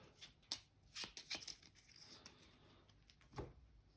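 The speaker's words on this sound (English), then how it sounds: "Shuffle the enemy actions." Enemy action cards for the Bloodborne board game are shuffled by hand, giving soft, quick riffling and tapping bursts, close but quiet, with no voices.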